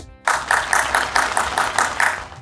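An audience claps and applauds to welcome Bishop Jonathan Rehmat onstage, a burst of steady, lively clapping that starts abruptly and carries on loudly.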